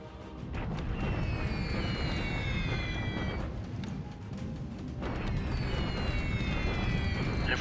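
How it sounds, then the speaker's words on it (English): Bombing explosions in a World War II Pacific strategy game, a raid on Wuchang in 1942: a sustained heavy rumble of booms, with high falling whistles sweeping over it twice, loud and continuous, with no voices. "A little bombing at Wuchang."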